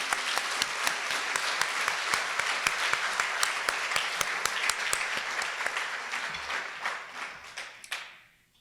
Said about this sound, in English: please everyone join me in applause